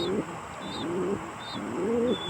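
Pigeons in a loft coo softly in repeated low rolling phrases, close by, with faint higher chirps in the background.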